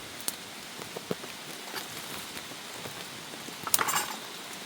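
Rain patters steadily on surfaces at a mountain forest camp, a soft continuous hiss with scattered sharper drop hits and a slightly louder rattle near the end.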